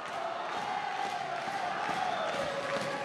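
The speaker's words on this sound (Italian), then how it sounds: "Il tifo sugli spalti." Spectators in the stands cheer at a WAKO junior world championship kickboxing final, a steady, distant crowd roar with whoops rising and falling throughout.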